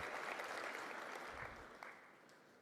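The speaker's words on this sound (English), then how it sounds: "How about another round of applause?" A room full of people applauds, steady clapping that gradually fades toward the end.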